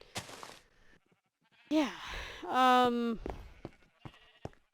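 Sheep bleating on a wool farm in a video game, a couple of clear, loud bleats in the middle of the clip, with a person's voice briefly speaking before and after.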